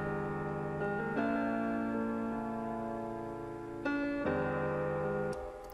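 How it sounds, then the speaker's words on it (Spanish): Piano line run through an Arturia Memory Brigade analog-style delay plugin with a touch of reverb, sustained chords changing a few times with soft, subtle echo tails blending into the notes. "ya le agrega unos pequeños delay muy suaves"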